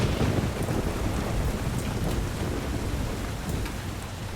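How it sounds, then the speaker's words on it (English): A thunderstorm with heavy rain in Postal 2 makes a dense, constant downpour hiss layered over low rumbling thunder, loud and unbroken for the whole stretch, with no voices. "The storm is here."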